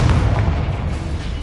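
A Confringo blasting spell explodes in Hogwarts Legacy, a short heavy low boom that rumbles and fades over about a second.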